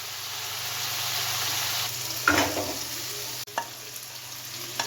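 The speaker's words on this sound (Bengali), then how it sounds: "মশলার মধ্যে মাছটা দিয়ে দিলাম। এবার ভালো করে এটাকে কষিয়ে নিতে হবে।" Lote fish sizzling and frying in spice masala in a pan, a steady hiss with a burst of stirring and scraping midway, no talking.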